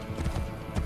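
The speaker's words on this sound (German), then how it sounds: "Mit dem Pferd reist es sich schneller" Horse hooves clip-clop under a rider in Assassin's Creed Brotherhood, a short run of soft, close thuds over a murky game background.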